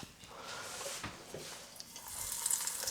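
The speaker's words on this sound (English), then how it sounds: "I got a handful of bite-sized balls. Let's fry them up." Bite-sized balls frying in oil at 350°F, a soft, steady sizzle and bubbling hiss that grows brighter and louder toward the end, with faint clinks and stirring.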